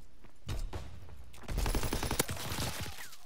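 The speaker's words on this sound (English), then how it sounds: "I shot him" Gunfire rings out in the WWII shooter game Call of Duty: WWII. Scattered single shots come first, then a dense rapid burst of overlapping gunfire with sharp cracks, fairly close and loud.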